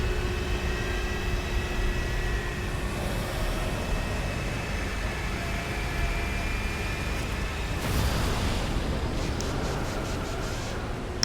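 Jet flying in the video game Marvel's Avengers, a steady broad roar with faint sustained tones throughout and a louder, brighter surge near the end.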